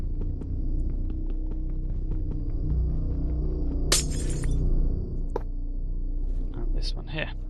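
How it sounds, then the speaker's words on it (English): Blocks being broken in a Minecraft modpack game, several short crunchy cracks and a longer crumbling burst partway through, set over steady low background music and rumble, with quiet speech. "So let's break a couple of these blocks."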